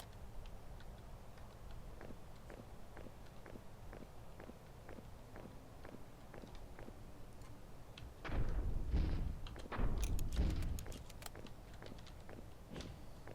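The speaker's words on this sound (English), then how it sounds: "Can you hear the footsteps of the..." Footsteps in the video game Bingo Flamingo tap in a steady, evenly spaced walking rhythm, faint and near, before a louder cluster of clattering, scuffling steps breaks in.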